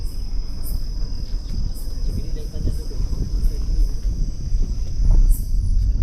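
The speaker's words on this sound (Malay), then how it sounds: "Tak, ini cengkerik dalam hutan." Crickets chirp in a forest at night on Bukit Jugra, a steady high trill with short repeated pulses over it, while low rustling and faint movement sit underneath.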